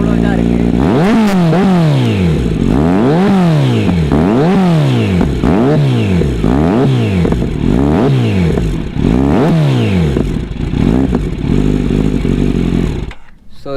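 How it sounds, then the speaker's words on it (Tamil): A 2021 Kawasaki Z900 inline-four motorcycle revs repeatedly, its exhaust note rising and falling in steady, rhythmic blips for about twelve seconds, loud and close, then cutting off abruptly. "ஸோ இதுதான் பார்த்தீங்கன்னா இந்த வண்டியோட எக்ஸாஸ்ட் நோட்டு."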